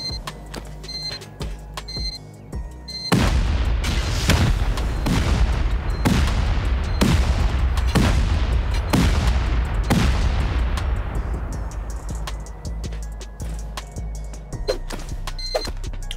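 Automated turrets firing in Rust, a rapid burst of shots starting suddenly and ringing out loud and close for about ten seconds, with sharp repeated reports over a dense clatter that trails off into a quieter tail.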